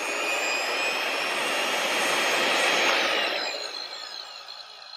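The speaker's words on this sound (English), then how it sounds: "Start the auto grind." An Ultima AutoGrind tungsten electrode grinder runs with a loud, steady high-pitched whine and whoosh that swells slightly, then eases off as the grind finishes, close and alone.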